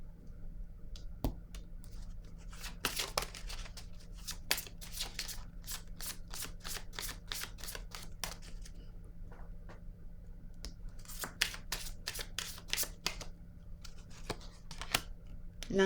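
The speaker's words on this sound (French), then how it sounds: "Je vais déposer une autre carte ici. Une autre carte rose." Pink playing cards set down on a table, a run of sharp, quick taps and slaps close by, clustered in bursts over a quiet room background.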